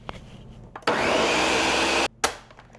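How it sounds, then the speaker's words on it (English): A blender runs loudly on ice cream ingredients in one steady, whirring burst of just over a second, then cuts off abruptly, followed by a short clunk. "the last step of this is to blend it for about 20 seconds until it's all well incorporated"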